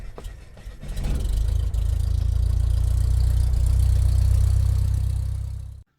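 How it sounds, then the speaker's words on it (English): A 1960 Rambler American car's engine idles close by, a steady low rumble that starts after a brief clatter and holds even before cutting off abruptly at the end. "we're going to check out the Rambler a little bit more and actually go take it for a drive"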